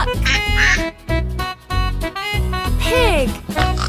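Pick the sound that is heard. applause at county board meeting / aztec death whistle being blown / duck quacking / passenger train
duck quacking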